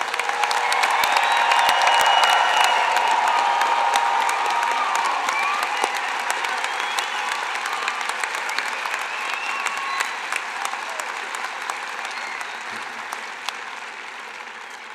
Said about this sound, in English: Let's give one more round of applause to all our graduates.